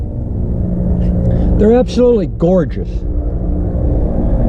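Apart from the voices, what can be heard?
plane flying over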